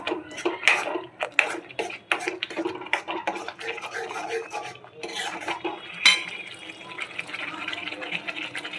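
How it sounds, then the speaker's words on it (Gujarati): A spoon scrapes and clinks against a pot while stirring a sev usal mixture with peas, a quick, irregular run of close metallic taps and swishes with a brief louder clatter near the end. "સારી રીતે હલાવી લેશું."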